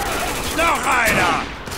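Rapid gunfire from combat in the video game Spec Ops The Line, dense bursts of shots crackling over a busy game soundscape with a voice talking over part of it.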